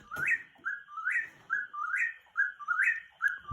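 Whippoorwill calls ring out near a screened deck at night, four clear repeated rising whistled phrases in a steady rhythm, loud and close, with no talking.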